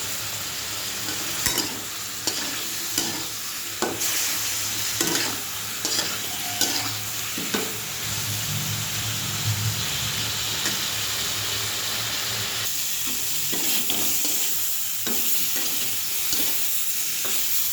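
Spices with turmeric sautéing in a pan, a low steady sizzle broken by repeated scrapes and clinks of a stirring spoon, close and moderately quiet with no voices.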